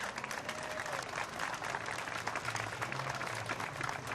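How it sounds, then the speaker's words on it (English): Steady crowd applause for pageant winners at the 2015 Swainsboro Pinetree Festival, a dense even wash of clapping that holds for about four seconds with a faint voice or two beneath it. "Let's give all these lovely ladies a big round of applause."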